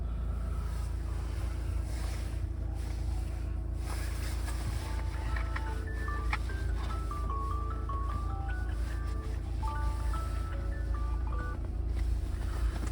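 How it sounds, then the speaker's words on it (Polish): A 2.0 TDI Skoda Kodiaq Laurin & Klement seven-seater sounds a repeated beeping key-not-detected warning, a series of short tones over steady low engine or wind noise throughout, with no talk. "Auto sygnalizuje, krzyczy, że nie mam kluczyka przy sobie."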